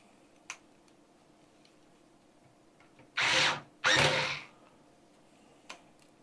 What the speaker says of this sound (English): Once you get all 4 screws in, that's when you can tighten it down